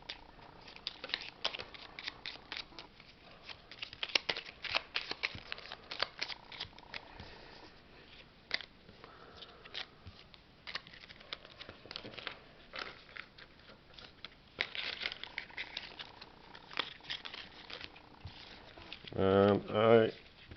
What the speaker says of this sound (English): I think we should first shuffle the item deck.